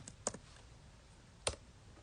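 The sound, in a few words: computer keyboard typing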